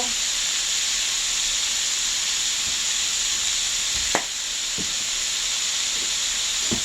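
Beef seasoned with garlic salt, Italian seasoning and basil frying in a pan makes a loud, continuous steamy hiss and sizzle, broken by a few soft clicks and taps of cooking movement.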